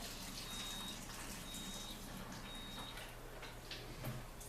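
Tap water runs steadily into a bowl, making a continuous hissing splash that holds at an even level from start to finish, with no voices over it.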